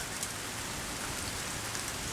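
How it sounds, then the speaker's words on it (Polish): Light rain falls in Gdańsk as a soft, continuous patter of drops on surfaces, faint and even throughout, with no voices. "Dobrze, chociaż dzisiaj troszkę pada."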